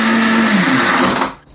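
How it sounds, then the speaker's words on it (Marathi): A kitchen mixer grinder whirs loudly and steadily, blending garlic, curry leaves, ginger and green chillies into a gravy paste for Gujarati-style misal pav, then winds down at the end. "हे सगळं मी मिक्सर मध्ये ग्रेव्ही करून घेणार"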